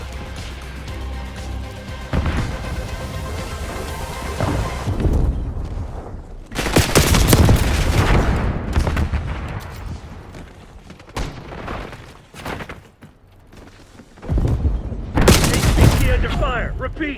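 Video game battle gunfire: bursts of rapid automatic fire and heavy booms, loud and close, coming in waves with short lulls, while a game voice talks over parts of the fight.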